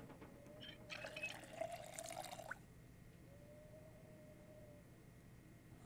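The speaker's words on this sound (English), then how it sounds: "Time to fill up my water pitcher up." Water pours into a pitcher in Project Zomboid, a short splashing fill lasting about a second and a half against a quiet game ambience hum.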